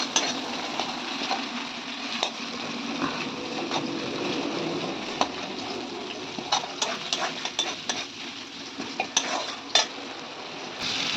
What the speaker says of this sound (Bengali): আর জিরে ফোড়ন দিয়ে দিচ্ছি।